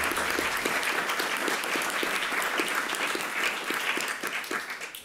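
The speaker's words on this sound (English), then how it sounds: "please give all of our speakers a great round of applause." Steady applause from a crowd, dense clapping that holds strong throughout and begins to fade toward the end.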